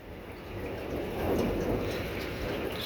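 A thunderstorm in Reno, Nevada gives a deep, rolling rumble of thunder that swells and fades over a few seconds amid the soft wash of rain.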